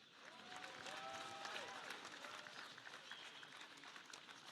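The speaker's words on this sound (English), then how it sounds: "at first please applause to both fighters" Arena crowd applauding both fighters at a professional world boxing championship bout, steady dense clapping mixed with crowd noise and a faint tonal background, sustained throughout.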